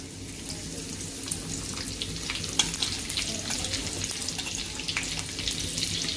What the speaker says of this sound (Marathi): आता मी जिरे टाकणार आहे याच्यामध्ये एक चमचाभर जिरे टाकायचे नंतर कढीपत्ता टाकायचा